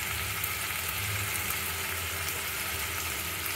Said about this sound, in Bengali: এই তেলে আমি বেটে রাখা পোস্তটা দিয়ে দেবো।